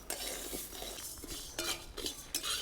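Spoon scraping and stirring rice as it dry-roasts in a pan, soft close scrapes and clinks in uneven strokes with faint sizzling, quiet overall.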